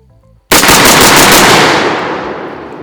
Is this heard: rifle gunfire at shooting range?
yes